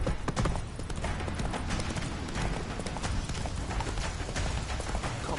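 Roach, a horse in the video game The Witcher 3, gallops with a steady, rapid clip-clop of hooves that runs loud and continuous throughout.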